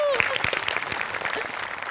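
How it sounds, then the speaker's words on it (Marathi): A studio audience at a Marathi comedy show breaks into applause, giving a brief burst of clapping that runs under a speaking voice. "त्याच्यासाठी जोरदार टाळ्या"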